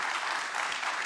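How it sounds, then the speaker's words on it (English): A short burst of thick, even audience applause for panelists leaving the stage at a national transport conference, many hands clapping together with no voices. "another round of applause for the panelists that have just exited the stage."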